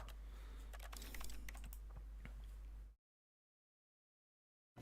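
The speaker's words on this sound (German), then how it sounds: "Drück mal Escape, diese Tastatur ist immer weit weg von mir." Rapid typing on a computer keyboard, ending with the Escape key pressed during The Stanley Parable: Ultra Deluxe, a close, steady clatter of clicks for about three seconds before abrupt silence.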